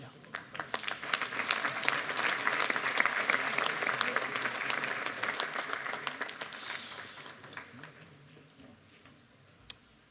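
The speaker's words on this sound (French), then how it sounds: "En commençant par Jean-Pierre Durin, que je vais vous demander d'applaudir" Audience applause at a town's New Year greetings ceremony builds to a full round of clapping, then gradually thins out and fades, with a few last scattered claps.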